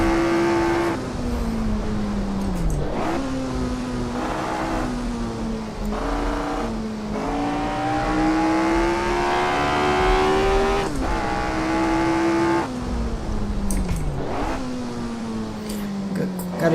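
A Lotus 25 racing car in Assetto Corsa at Brands Hatch revs close and loud, its engine pitch climbing through each gear and dropping with sharp throttle blips on the downshifts.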